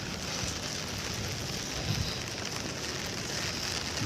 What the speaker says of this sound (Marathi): आता पाऊस पडतो आहे